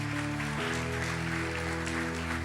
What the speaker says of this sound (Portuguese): Dê um aplauso bem forte a Deus